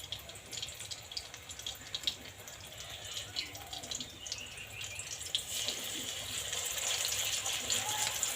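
Batter-coated pointed gourd (potol) fries in oil with a soft, bubbling hiss and light crackle that grows gradually fuller and louder.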